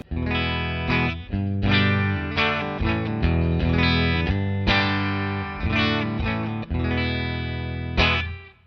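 Clean electric guitar strummed chords and picked notes through a Vox AC30 tube amp, warm and full with a touch of amp shimmer, ringing steadily throughout, no voices.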